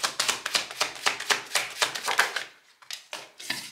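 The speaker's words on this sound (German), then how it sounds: "Ich möchte jetzt erstmal die 6 Karten fertig mischen." Tarot cards being shuffled by hand, a rapid run of crisp papery taps and riffles in quick rhythmic bursts, close and fairly loud, with a short pause before a few more.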